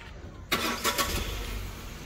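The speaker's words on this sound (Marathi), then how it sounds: "गाडी चालू कर रे." A car engine cranks and catches at about half a second, with a couple of revving surges before settling into a steady idle, heard nearby with no talking.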